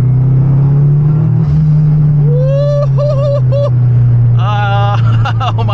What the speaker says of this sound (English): Let's see if we can hear just some turbo noises right here, right?